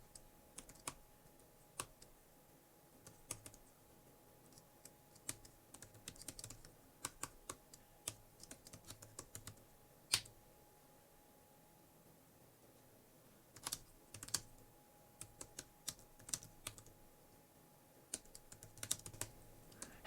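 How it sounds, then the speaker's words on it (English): Fingers tap out a program listing from a magazine on a computer keyboard, quiet irregular clusters of key clicks with brief pauses, close up and steady throughout. "me typing in stuff out of a magazine"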